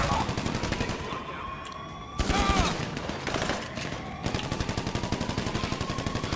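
Gunfire in the video game GTA V: rapid automatic bursts rattle almost nonstop, loud and close, with a brief siren-like wail under the shooting.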